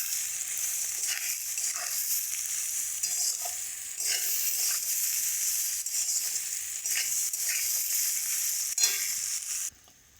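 Vegetables fry in fish oil in a pan with a steady broadband sizzle, while a spoon scrapes and stirs in repeated strokes close by for about ten seconds before the noise cuts off.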